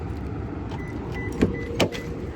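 Someone climbs into a car, with a steady close hum and two short thumps or rustles of movement about a second apart, no voices.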